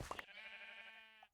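A single close sheep bleat from Minecraft, a wavering nasal cry lasting about a second that opens with a short rustle and then cuts off cleanly.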